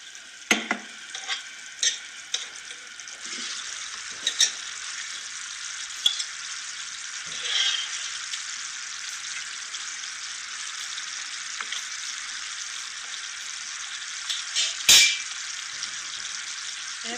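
Jalebis deep-frying in hot oil, a steady broad sizzle that runs alone throughout with a few small pops and spatters, close and fairly even in loudness.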